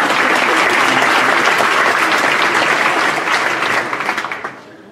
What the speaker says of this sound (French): Alors ça s'applaudit, ouais.